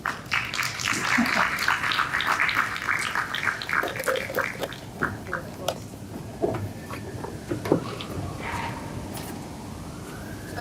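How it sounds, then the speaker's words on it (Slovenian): An audience applauds two guests at a summer literary event on writing humor in Slovene, with dense clapping in the first few seconds that thins into scattered claps as a voice speaks. "En aplavz za današnja gosta."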